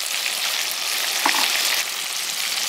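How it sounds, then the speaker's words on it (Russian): Quail fry in a kazan with spices such as turmeric and dried thyme, giving a steady, close hiss of oil and sizzling meat that runs the whole time with no voices. "Пусть жарится вместе."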